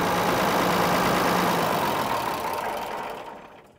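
Old farm tractor, left forgotten on a fence row, running steadily just after its first start, a loud, even engine drone that holds for a few seconds and then fades away near the end.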